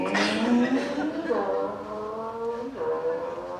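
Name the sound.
voice imitating a car driving off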